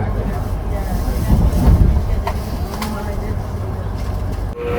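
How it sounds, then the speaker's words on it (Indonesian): The Jayakarta passenger train rumbles into Cikarang station, a continuous low rolling and rattling with brief squeals and clanks over it, heard from inside the train. "kereta api Jakarta yang saya naiki sudah tiba di stasiun Cikarang"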